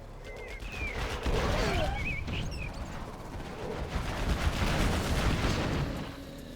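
Scattered gunfire and explosions from Command & Conquer Generals Zero Hour, a steady noisy battle texture with bird-like chirps over it, moderately loud.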